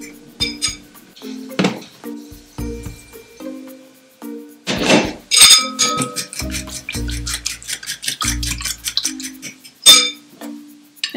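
Egg being mixed with sugar and milk for Pinoy-style French toast with condensed milk, repeated clinks and scrapes of utensil against a bowl in irregular bursts, close and fairly loud.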